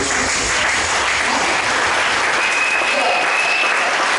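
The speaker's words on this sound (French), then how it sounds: "Je pense que ça mérite des acclamations." Loud, dense applause from a large crowd, steady and sustained throughout, with a faint voice rising briefly over it.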